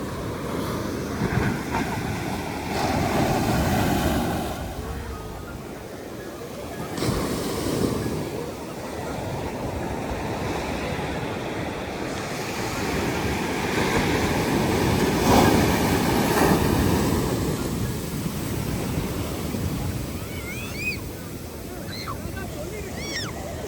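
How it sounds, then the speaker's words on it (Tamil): Ocean surf on Alappuzha beach in Kerala, a broad continuous wash of breaking waves rising and falling over more than twenty seconds, loud and close, with wind noise and a voice talking over it. "ரொம்ப பெரிய பீச்சுங்க"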